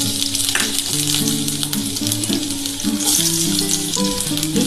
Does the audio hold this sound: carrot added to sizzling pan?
yes